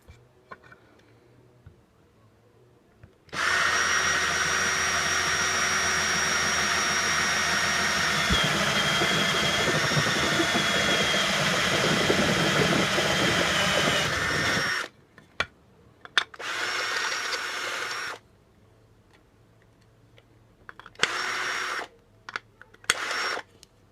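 A power drill whines steadily for roughly eleven seconds while boring speed holes in a part for a Suzuki GSXR K2 race bike, then stops and is followed by a few shorter bursts of drilling, all close and with no talk.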